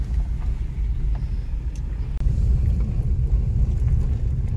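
Vehicle driving along a road lined with bushes on both sides, a steady loud engine and road rumble with wind buffeting, continuous and close, with one brief knock midway.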